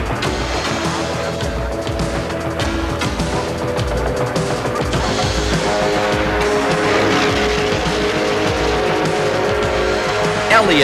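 NASCAR Winston Cup stock cars racing in 1988, loud roaring engines and squealing tires throughout, with a commentator talking over the race.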